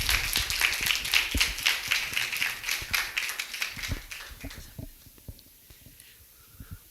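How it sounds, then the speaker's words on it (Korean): A church youth worship audience applauds to welcome a missionary, dense clapping that fades away midway, leaving a few scattered claps and near silence. "우리 선교사님 나오실 때 큰 박수로 환영하며 맞이하겠습니다"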